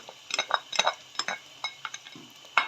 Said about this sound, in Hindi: प्याज के साथ ही मैं इसमें शामिल कर दूँगी लहसुन। साबुत डाल देंगे